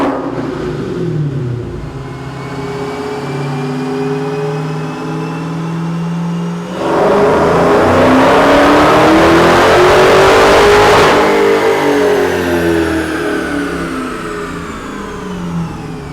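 A Dodge Challenger Hellcat runs on a chassis dyno, its engine revving hard and climbing through a sustained loud pull with rising whine before easing off, close and continuous with no voices.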